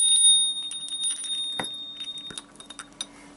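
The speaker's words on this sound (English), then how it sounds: "here we have a nice cute little collection with some bells for you" A small collection of little bells rings with bright, high tinkling tones and scattered clinks and knocks, close by, the ringing thinning into sparse jingles.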